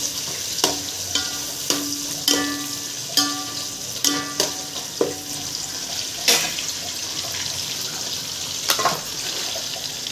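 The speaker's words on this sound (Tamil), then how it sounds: "நீளமாக நறுக்கி வச்ச 4 பெரிய வெங்காயம் ஆட் பண்ணிக்கோங்க." Sliced onions being added to a pan of whole spices (cloves, bay leaf, star anise, stone flower) for kuska, with steady frying sizzle and repeated sharp stirring clicks and scrapes at an even pace, close and moderately loud.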